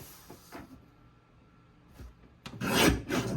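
A paper trimmer slices a sheet of paper, a few soft scraping strokes early on followed by a louder, longer rasping cut near the end, close and without talk.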